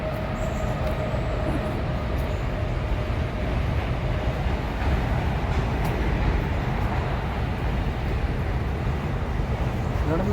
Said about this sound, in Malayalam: വീടിൻ്റെ ബാക്കിലുള്ള ട്രെയിൻ.